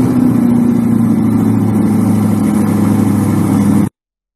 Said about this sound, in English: I want to show you the quick video of this starting up, so you can hear the engine.